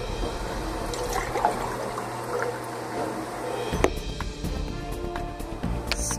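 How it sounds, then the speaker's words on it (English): Liquid trickles steadily into a cup for several seconds, a soft continuous pour with a faint clink partway through. "You wanna see how I pour tea?"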